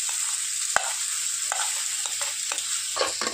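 Stuffed tomatoes being stirred into frying masala in a pan, a steady bright sizzle with soft scraping stirs and light clinks of the spoon throughout.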